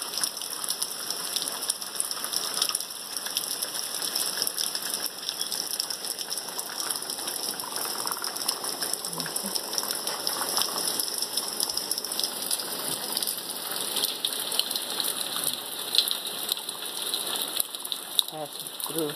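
Steady rain falls at night on a street in Augusta, Georgia, a dense, even hiss of drops with occasional closer patters, constant and moderately quiet throughout.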